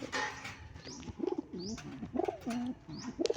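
Pigeons coo nearby in soft, repeated rolling calls, several phrases overlapping with light chirps and faint background noise, no talking.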